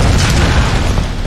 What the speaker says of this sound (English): I always enjoy a good explosion.